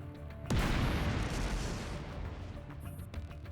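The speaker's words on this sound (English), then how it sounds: "Massive explosion engulfs the earth." A massive explosion from a crashing, burning ship bursts in suddenly with a sharp, loud impact, then swells into a broad roaring rumble that slowly fades and trails off over a few seconds.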